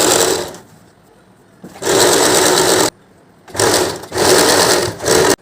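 A sewing machine runs a bottom seam along a fabric panel in three loud, close bursts of rapid stitching separated by short silent pauses.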